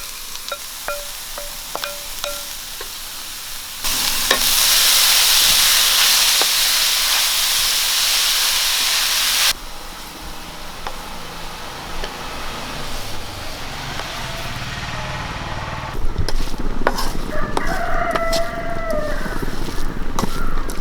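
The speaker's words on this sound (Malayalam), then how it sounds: "മിക്സ് ചെയ്ത് വെച്ചാൽ ബീറ്റ്റൂട്ടും തേങ്ങായും എല്ലാം കൂടെ നമുക്ക് ഇട്ട് കൊടുക്കാം." Beetroot and coconut fry with dried chillies and curry leaves in a pan, giving a loud steady sizzle and hiss that surges when ingredients go in, then settles, with stirring and clatter near the end.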